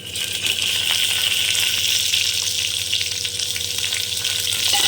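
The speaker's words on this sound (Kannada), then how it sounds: "ಈರುಳ್ಳಿ ಕಲರ್ ಚೇಂಜ್ ಆಗೋದಕ್ಕೆ ಫ್ರೈ ಮಾಡ್ಕೊಳ್ಳಿ" Onions fry in oil for drumstick sambar, making a loud, steady, close-up sizzle that hisses without pause and is joined by faint stirring sounds.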